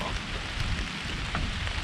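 Steady, dense rain patters on outdoor surfaces during repair work on an 8hp Craftsman wood chipper, a constant close wash of drops with no pauses.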